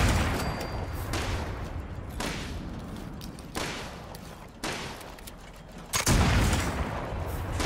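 Gunfire in the video game Fallout 76 during player-versus-player combat: loud sustained bursts of shooting with several sharp onsets, dense and continuous throughout.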